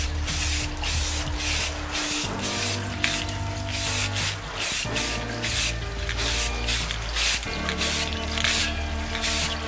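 A spray can laying down a coat of topside paint in short repeated hissing bursts, close and loud, over a steady low tonal hum in the background.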